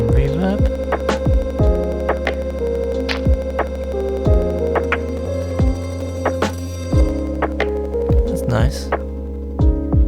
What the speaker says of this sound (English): Add some reverb.